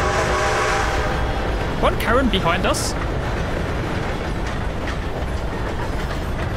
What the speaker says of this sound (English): cliche train coming across the tracks.